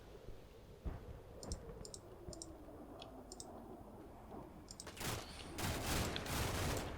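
Rapid gunfire strikes a Mark 19 Humvee in the Combat Mission: Black Sea wargame, a few sharp clicking shots early on, then heavier bursts of fire building near the end.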